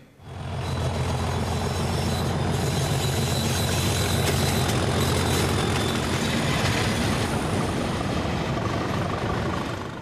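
A heavy diesel locomotive engine idles loudly and steadily, a deep continuous rumble with a rough rattling throb that holds throughout.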